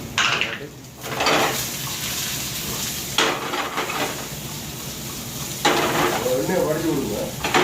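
Mustard seeds, cumin, chili and onion sizzling in hot oil for a Sri Lankan rice dish, with steady frying hiss, stirring and pan clatter up close, and voices talking over it.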